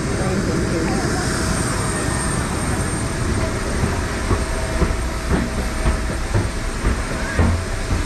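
A jet airplane at Entebbe International Airport gives a loud, continuous broadband roar of engine noise that fills the scene without letting up.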